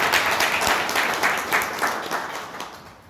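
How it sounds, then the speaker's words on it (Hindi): An audience at a talk on digital currency and bitcoin bursts into loud, sustained applause, a dense wash of clapping that swells and slowly fades over a few seconds, with no voices heard. "जोरदार तालियां"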